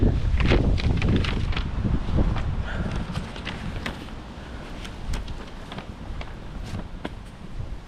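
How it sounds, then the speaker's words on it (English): Strong outdoor wind buffets the microphone in continuous loud gusts and rumbles, easing slightly partway through, with faint footsteps or light knocks beneath and no talking. "A little bit windy today"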